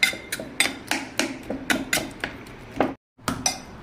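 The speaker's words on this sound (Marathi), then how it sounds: "अशी पळी किंवा ग्लास असं तुमच्याकडे वाटी जरी असेल ना त्याने जरी अशी तुम्ही रगडली ना भाजी" Cooked dill greens being mashed with a ladle or glass in a vessel, a steady series of sharp knocking thumps roughly every third of a second, close and fairly loud, with a brief pause near the end.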